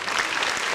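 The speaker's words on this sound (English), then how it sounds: "a round of applause is in order" A round of applause from an audience, dense, steady clapping filling the whole short moment at close range with no voices over it.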